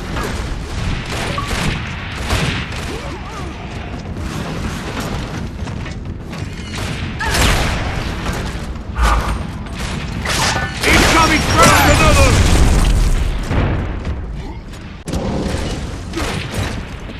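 A frag grenade goes off in a Gears of War Judgment match, loud booms and bursts among mechanical clatter and rapid gunfire, with a heavy blast peaking near the middle, all close and dense.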